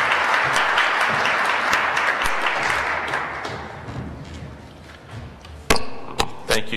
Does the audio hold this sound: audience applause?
yes